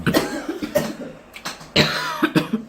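Several harsh coughs in a row, loud and close, some spaced apart with a heavier burst toward the end.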